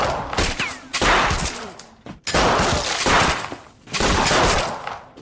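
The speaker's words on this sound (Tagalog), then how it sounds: "Nagbarilan ang dalawa hanggang sa kapwa sila bumagsak." Gunfire in a Stalingrad war film comes in heavy bursts of rapid, loud shots, with brief near-silent gaps between volleys, all close and harsh.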